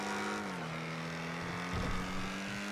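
A sustained engine drone from the Ocelot Jugular car in the GTA 5 video game runs steadily throughout, rising briefly toward the end as it revs, loud and close with no talking.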